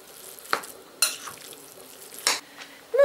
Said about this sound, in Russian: И все хорошо-хорошо перемешиваем.